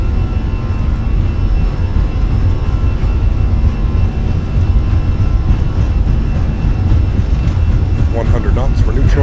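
Fenix A320 jet engines spooling at takeoff power during a runway roll in Microsoft Flight Simulator, a steady loud broadband roar throughout, with a voice talking briefly near the end.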